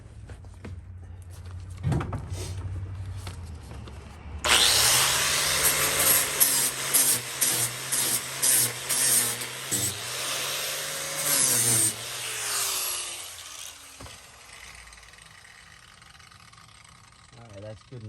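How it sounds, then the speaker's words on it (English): Angle grinder grinding a broken weld flat on a Ford Econoline E350 extended van, loud and close, starting abruptly after a quiet stretch with rapid pulsing bursts for several seconds, then winding down. "I'm going to grind this off, get that clean, and then re-weld it again."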